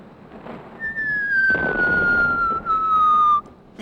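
A falling bomb's long, high whistle slowly drops in pitch over a few seconds, loud and steady above a noisy rumbling background, then cuts off abruptly.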